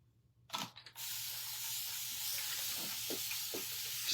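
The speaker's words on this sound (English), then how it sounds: "Spray all my transfers." An aerosol can sprays craft ornament transfers in a steady, close hiss lasting several seconds after a brief click and rattle, with no one talking.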